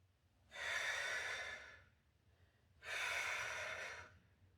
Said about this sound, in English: 2 breaths in and out for the plank